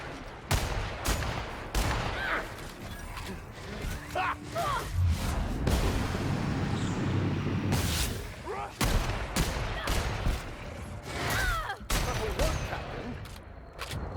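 Video game gunfire from The Outer Worlds, a dense run of sharp, repeated shots in irregular bursts over a steady rumbling battle backdrop, loud and close throughout.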